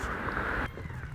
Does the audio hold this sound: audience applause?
no